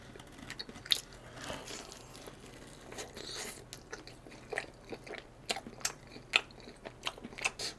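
Close, crisp bites and crunchy chewing of a Jeonju bulgogi pizza from Pizza Alvolo's Paldo pizza line. The sharp bites come at irregular intervals, with soft mouth sounds between them and no talking.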